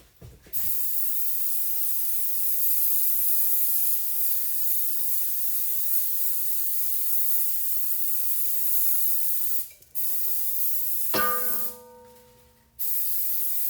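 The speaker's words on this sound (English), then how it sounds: "I'm gonna step away and spray this over the sink." A long continuous hiss of aerosol cooking spray into a bundt pan over a sink, steady and close, stops briefly, then resumes in a short burst alongside a clatter.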